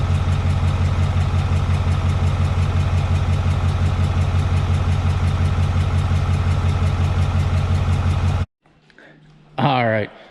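A truck engine runs steadily at idle, loud and close, with a dense rhythmic low throb that stops abruptly near the end, followed by a brief voice.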